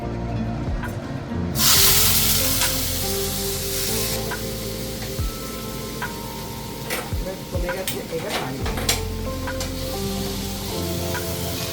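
Bhetki fish frying in oil that has become very hot, a dense crackling sizzle with sharp pops and spits throughout, a brief burst of louder hiss near the start, with a voice talking over it.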